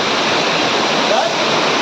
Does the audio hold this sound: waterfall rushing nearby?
yes